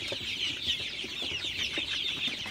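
Close, continuous clucking and chirping from a flock of Sonali super hybrid chickens drinking water at night, a dense overlapping chatter of many birds with no talking.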